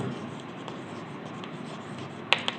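Chalk or marker writing on a classroom board during a chemistry lesson, a soft continuous scratching with a couple of sharper taps near the end, close and fairly quiet.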